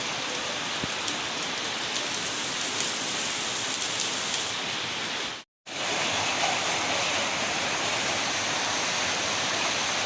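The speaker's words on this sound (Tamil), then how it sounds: "மழை சும்மா உச்சி உதறுது, சரியான மழை" Heavy rain pours over Velachery, Chennai during flooding, a dense, loud, steady hiss of downpour filling the whole stretch, broken only by a momentary dropout midway.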